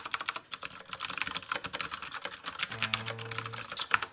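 Typing on a Xenics Tesoro Excalibur mechanical keyboard with Kailh blue switches, a fast, dense stream of sharp clicky keystrokes, close and loud, with a few heavier presses near the end.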